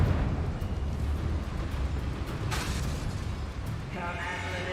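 A Confringo spell in Hogwarts Legacy bursts into a broad, roaring explosion that rumbles on for several seconds, with game sound and some speech over it.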